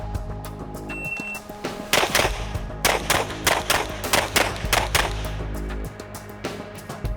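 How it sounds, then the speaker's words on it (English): Rapid pistol shots fired during a moving shooting drill on a range against stationary targets, with about eight sharp, loud reports in quick pairs and groups over steady outdoor background noise. "We're gonna shoot the same drill again, stationary target, two alphas, and then we'll start moving on the other four targets"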